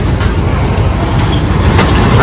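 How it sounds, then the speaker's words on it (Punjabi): A steady low rumble of a small children's ride-on train running, continuous and fairly loud, with faint crowd noise in the background. "ਟ੍ਰੇਨ ਚੱਲਦੀ ਛੋਟੇ ਛੋਟੇ ਛੋਟੇ ਬੱਚਿਆਂ ਵਾਸਤੇ ਹੈ"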